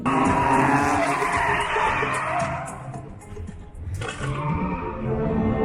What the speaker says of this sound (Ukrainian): Тут не було шансів, щоб поляки дрифтували не на БМВ.